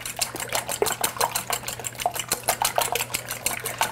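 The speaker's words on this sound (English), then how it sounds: "I'm going to mix three eggs. I'm going to beat those just with a whisk." A whisk beating three eggs in a bowl for a French asparagus tart, fast regular clicking strokes against the bowl, close and steady over a low constant hum, with no talking.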